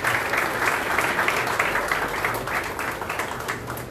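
Audience at a jersey unveiling event for a Goan sports team applauds steadily, a dense, even spread of many clapping hands sustained throughout, slightly easing at the close.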